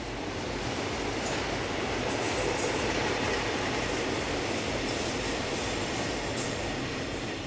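A train runs along the existing railway line at Kaeng Khoi in Saraburi, Thailand, with a steady close rumble and a faint high wheel squeal throughout, and no voices.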